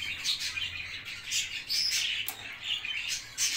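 Budgerigars in a cage chirp and tweet continuously in quick, high-pitched bursts, fairly close, with no talking.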